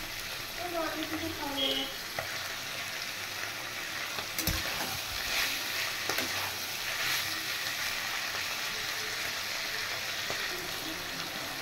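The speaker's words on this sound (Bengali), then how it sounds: "এবার মেটেটা সহ আমি একটু ফ্রাই করব" Mutton liver sizzles and fries in a pan, a continuous hissing crackle with occasional stirring scrapes and a faint voice now and then.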